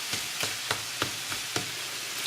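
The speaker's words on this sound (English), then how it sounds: "I'm going to add back in my kielbasa and the eggs. And just mix them in really well." Kielbasa and eggs fry in a pan on low heat while being stirred, a soft steady sizzle broken by regular scraping strokes of a utensil about every third of a second.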